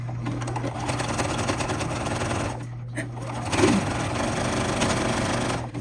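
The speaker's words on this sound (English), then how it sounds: "I'm just going to stitch along until I get to a corner" A sewing machine stitches binding onto a quilt, its steady rapid mechanical whir running close and continuously with a brief pause partway through, while a person talks over it.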